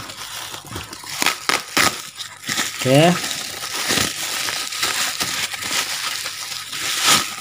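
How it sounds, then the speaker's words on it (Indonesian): Bubble wrap packaging around a boxed Ridge Racer 3D Nintendo 3DS game is pulled open, giving crinkly plastic rustles and crunches under brief casual talk. "Bubble wrap-nya kita buka lagi."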